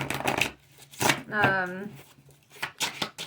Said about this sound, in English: gonna shuffle these cards around.